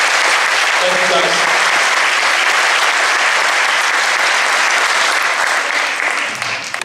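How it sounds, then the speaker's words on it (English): Loud, sustained applause from a large crowd, a dense wash of clapping that holds steady throughout before tapering slightly at the close. "Nice round of applause for the fine folks at Life Touch."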